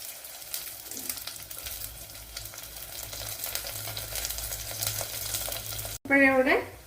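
Green chillies fry in hot oil in a pan for a fish curry, giving a steady close sizzle with crackling spatter throughout. A sudden cut near the end brings a short, louder and different burst of sound.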